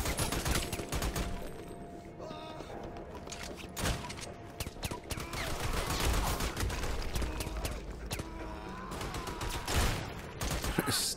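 Gunfire in the Army of Two video game, dense bursts of shots and automatic fire running continuously through a busy, loud battle mix with thumps and impacts.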